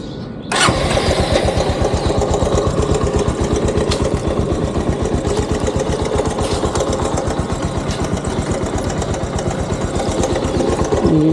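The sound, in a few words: Bajaj Avenger 220 motorcycle engine started and idling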